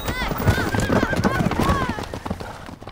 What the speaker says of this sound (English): She was trampled to death by horses.